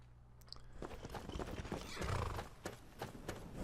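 Horse hooves in a video game clop steadily on the ground with a continuous rhythmic beat, close and fairly loud, under a busy ambient backdrop.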